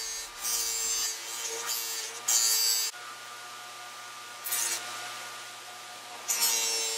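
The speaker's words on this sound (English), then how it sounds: "now I'm going about polishing the brass ring that will be polished and bright when the lamps are all done." A red rouge stick is used to polish a brass lamp ring, a close rubbing hiss in several separate bursts over a faint steady motor hum, with no talk.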